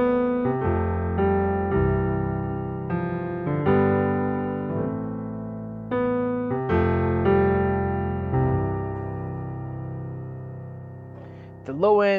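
Piano recorded with microphones inside the instrument, heard up close and dry, a sequence of chords and single notes with clear attacks that ring briefly and fade, nobody talking.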